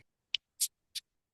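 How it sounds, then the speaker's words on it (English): A beer can being cracked open up close: a click followed by two sharp hissing bursts of escaping gas, brief and crisp against silence. "I'm gonna crack my beer to that."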